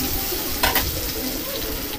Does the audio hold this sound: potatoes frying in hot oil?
yes